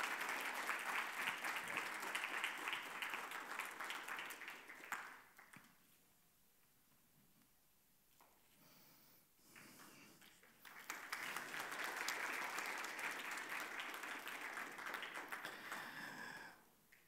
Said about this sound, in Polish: Zapraszamy, ogromne brawa